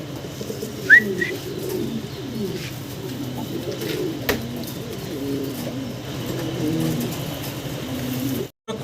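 A pair of Spanish fancy pigeons coo in low, repeated throaty phrases, close up, with a brief chirp and some background noise.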